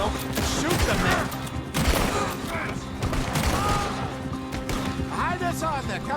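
Gunfire in the Red Dead Redemption 2 video game, with repeated shots and fusillade bursts scattered throughout a busy, loud mix while people talk over the action.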